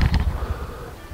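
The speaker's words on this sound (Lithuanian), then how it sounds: "vienas pikčiausių bičių" Bees shaken from a hive frame at an apiary swarm in a loud, close, dense buzzing hum that swells in the first moments and then settles into a steady drone, with no talking.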